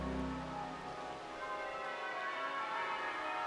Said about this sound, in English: The concert began with the bells of Worcester Cathedral ringing out across the city